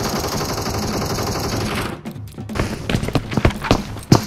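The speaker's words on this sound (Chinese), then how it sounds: "咱们利用他开枪的声音掩盖自己的脚步声" Gunfire from another player shooting at a boss in a video game, a fast run of sharp shots in the first two seconds, then scattered louder individual reports and impacts.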